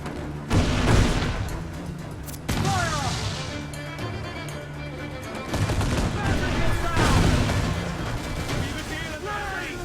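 Heavy shot cannon fire in the ship combat of Assassin's Creed IV, with loud booming blasts and crashing impacts in dense, overlapping volleys over sustained battle noise.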